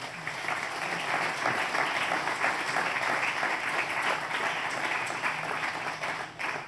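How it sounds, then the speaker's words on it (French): An audience at a BIM building-renovation presentation applauds the participants, with steady, dense clapping from a room of people that carries on evenly throughout before tapering at the very end. "Je vous demande de les applaudir"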